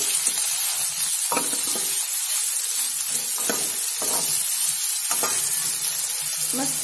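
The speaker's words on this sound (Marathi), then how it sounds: "आता ते असं का परतून घ्यायचं तेलामध्ये" Ground masala paste sautéing in hot oil for a vegetable curry gives a continuous soft sizzle, broken by several sharp scraping strokes of a stirring spoon against the pan. No one speaks.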